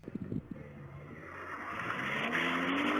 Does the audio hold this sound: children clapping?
no